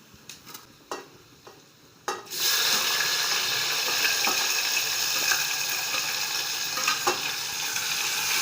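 A few clinks and taps, then a loud, steady sizzle as tomatoes hit a hot pan, with occasional stirring scrapes over the frying.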